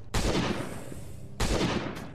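Gunfire in the mobile survival game Last Day on Earth: Survival, with two loud, sharp shots about a second apart, each with a short rumbling tail, and a fainter crack just after the second.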